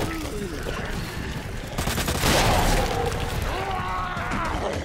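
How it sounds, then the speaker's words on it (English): A grenade blast in Resident Evil 2 Remake, a loud sustained boom with a rumbling burst of gunfire-like crackle mixed with game sounds and background voices. "Wait, I still got a grenade."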